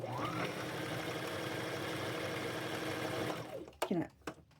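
A sewing machine gathers fabric into a ruffle with a fast, even motor whir for several seconds, then stops, leaving a few handling knocks and clatters. No words are spoken.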